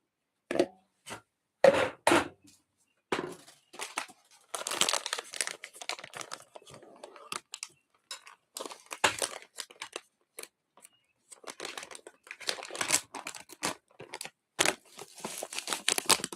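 Plastic bag of gravel from a gold dredge in Colorado being opened and handled, with irregular crinkling rustles and sharp crackles in bursts, close by and alone without talk.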